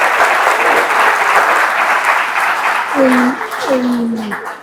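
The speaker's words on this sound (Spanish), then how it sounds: "Por favor, un aplauso." Audience applause after a book-club talk, dense and loud, continuing steadily while a voice speaks over the last part.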